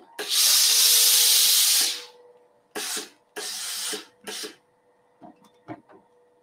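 Steam iron hissing in loud bursts while pressing a quilt block seam flat: one long blast, then several shorter puffs, with soft handling noises between.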